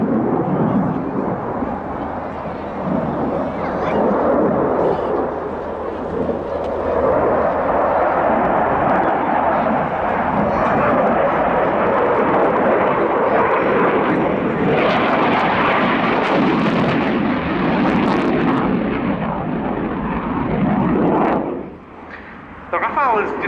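A Dassault Rafale C fighter jet performing an airshow display, its engine roaring loudly and continuously, swelling and surging as it passes, with a commentator talking over the noise.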